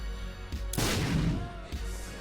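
Bomb explosion in The Binding of Isaac: Rebirth, a single loud burst that blooms and decays over about a second against a steady game soundtrack.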